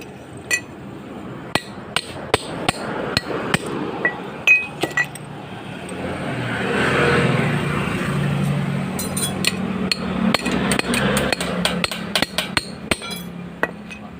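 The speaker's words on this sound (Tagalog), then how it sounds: "Titirahin nyo lang ng flat screw dito, tapos matatanggal na yan." Metal hammer strikes on a flat screwdriver driven against a chain link to break it, sounding as sharp clinking taps scattered across the clip, clustered more densely near the end, with no talk.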